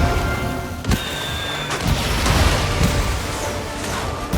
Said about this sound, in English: so he can land explosions like that